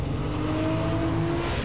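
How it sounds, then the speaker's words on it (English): A car powers through a drift, its engine holding a strained, steady drone with faint tire scrub during a Top Gear track test of a Mitsubishi EVO 6, Subaru Impreza, Nissan Skyline and Porsche Turbo. "now drift it with the power, power slide, power slide, power slide"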